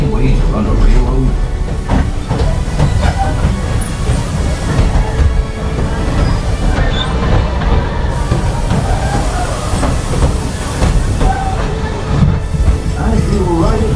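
A Walt Disney World Railroad train rolls along its rails with a steady, close rumble and faint clatter throughout, a low murmur of voices mixed underneath.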